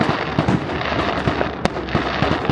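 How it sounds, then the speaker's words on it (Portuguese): City fireworks exploding at night, a dense crackling barrage of pops and bangs with one sharp louder burst, heard from a distance with no talking. "Ali os fogos da cidade."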